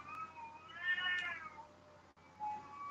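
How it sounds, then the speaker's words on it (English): A cat meows indoors in a long, wavering, plaintive call, followed after a short break by a softer second meow, heard a little way off over a low room hum. "I can hear a cat meowing."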